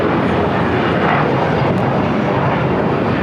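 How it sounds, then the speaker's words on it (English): An Alaska Airlines jet landing at Los Angeles International Airport, a loud, dense, continuous engine roar that stays steady and close for the whole stretch. "Alaska 1352, Los Angeles Aircraft coming downhill"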